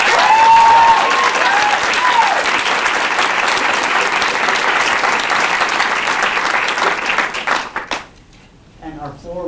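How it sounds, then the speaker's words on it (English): Applause from an audience at a diversity monologue event, sustained loud clapping across the room that gradually thins out into scattered claps at the end. "let's give them a round of applause"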